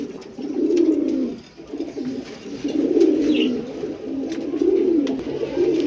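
A pair of black-speckled dom pigeons coo close by, repeated soft, throaty rolling coos in three swelling phrases with brief gaps, no talk.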